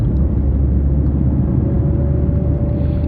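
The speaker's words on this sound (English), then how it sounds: "the driver hears the humming of the motor of the cars." A loud, steady low synthesized car motor hum with a constant drone and faint tonal whine, continuous and close throughout.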